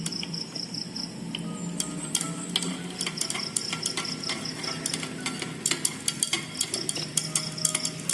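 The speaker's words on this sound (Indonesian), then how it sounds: "Kita aduk sehingga sedikit agak kental." A utensil stirs used cooking oil into a lye solution to make soap, giving a steady run of quick scraping and clicking strokes against the container, close and continuous, with no voices.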